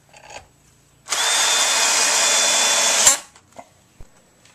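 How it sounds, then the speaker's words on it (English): A power drill drives screws to mount a Deckman wall bracket for an EGO leaf blower, making one continuous high-pitched whirring burst of about two seconds, with faint handling clicks before and after. "You put in 2 screws and it's mounted."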